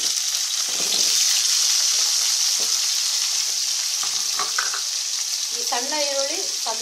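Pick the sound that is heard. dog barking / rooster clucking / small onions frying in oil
small onions frying in oil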